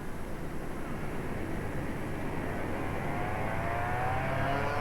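Racing karts of the 1992 European Formula K championship pulling away on the rolling lap, a dense, steady buzz of small two-stroke engines droning together at constant loudness, slightly rising in pitch toward the end.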